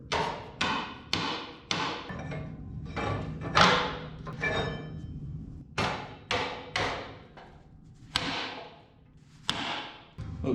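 Truck body metal on an LS-swapped Chevy S-10 being hammered for axle clearance: about a dozen loud, ringing metallic whacks spaced a second or so apart, each fading quickly, with no talking.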